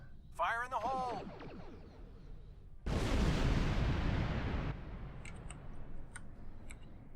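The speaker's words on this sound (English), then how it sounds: "And they won't notice the massive explosion." A torpedo blast tears through an asteroid in the Star Trek Online video game, a sudden loud burst of broadband roar lasting about two seconds, preceded by electronic warbling and followed by scattered faint ticks.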